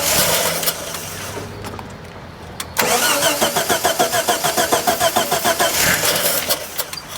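An old Ford Falcon engine cold-starting: a muffled cranking attempt, a short pause, then the engine catches and runs loudly with a rhythmic, lumpy idle close by, and no voices over it.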